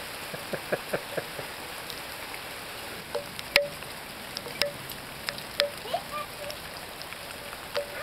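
Hailstones pattering steadily onto the ground and hard surfaces in Studio City, with irregular louder pops and clicks from nearby impacts.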